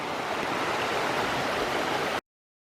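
The Thornton River in Shenandoah National Park rushes nearby as a steady, dense hiss of flowing water, unbroken and moderately loud for about two seconds before cutting to silence.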